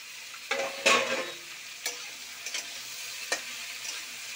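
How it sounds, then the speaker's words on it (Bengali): Ridge gourd being stirred and fried in a pan with other vegetables, heard close as a light sizzle broken by several sharp scraping strokes of a spatula, with no voices. "দিয়ে একটু নাড়তে থাকছি।"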